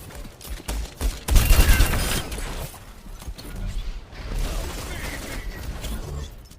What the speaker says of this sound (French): donc on va passer à la première arme de Tracer, les pulseurs